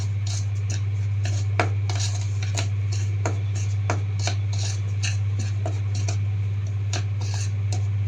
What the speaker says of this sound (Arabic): وادي الفانيليا حطيناها، وهنقلب كده كل ده مع بعض